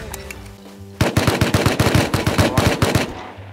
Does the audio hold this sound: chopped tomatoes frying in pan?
no